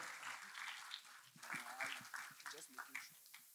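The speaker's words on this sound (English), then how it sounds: "Shall we clap for wonderful Jesus Christ once more?" A church congregation applauding for Jesus Christ, scattered claps under a preacher's voice that carries over the whole stretch.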